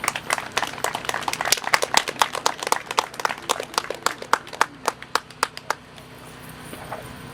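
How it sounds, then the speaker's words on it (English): Applause from an audience at an Asian racism and refugee story event, sparse individual claps tapering off toward the end, fairly close with a faint room hum. "Please give her a round of applause."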